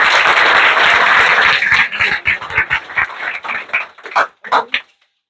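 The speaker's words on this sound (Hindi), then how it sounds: "इसके लिए सर के लिए तालियां होना चाहिए" Applause from a class of students at a coaching center in Bihar Sharif, starting as a loud dense burst, then thinning into scattered individual claps that fade out before the end.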